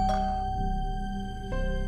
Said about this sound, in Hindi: इसी वक्त बैरूनी दरवाजे की घंटी बजी।